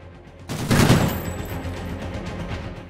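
Video game gunfire erupts as a sudden loud burst of rapid shots that rings out and decays over a couple of seconds, with no talk.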